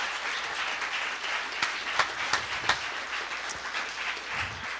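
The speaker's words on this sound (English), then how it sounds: "let's give everybody seriously a round of applause." An audience applauds steadily, a dense wash of clapping with a few sharper claps standing out, continuing without any talk.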